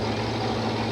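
Bigfoot monster truck with a powerful new motor idling at a 1990 stadium monster truck event in the Seattle Kingdome, a loud, steady, continuous rumble with no breaks.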